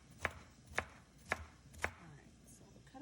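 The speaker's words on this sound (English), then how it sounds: "Alright, so we'll cut up our lovely green peppers." Four evenly spaced knife chops through green peppers on a cutting board, crisp and close, with quiet kitchen background between strokes and no talking.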